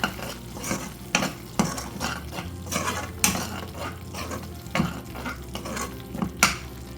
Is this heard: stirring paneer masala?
yes